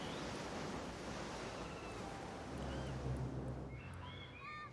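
Ocean waves wash steadily against the shore in the city-building game SimCity, a faint, continuous surf hiss with soft swells and no voices.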